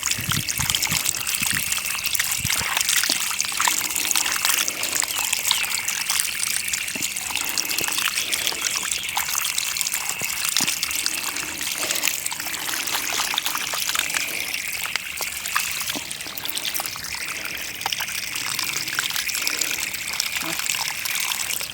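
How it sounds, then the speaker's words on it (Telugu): A kilo of chicken is washed with two spoons of turmeric under running water, a steady close trickle and splash of water continuing for the whole stretch. "రెండు స్పూన్స్ పసుపు వేసి నీట్గా కడుగుతున్నాను."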